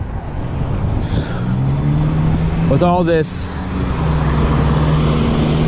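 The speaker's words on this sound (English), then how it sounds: "lovely traffic with me." Road traffic rushes steadily past a cyclist riding home from Carmel to Indianapolis, with a nearby vehicle swishing by midway and an engine droning throughout, while someone talks over the noise.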